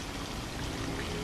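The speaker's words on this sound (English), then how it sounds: "this flow that you see coming over the weir here" Water pours steadily over a weir in Jones Creek at a headwaters preserve, making a continuous, even rushing wash heard up close without talking.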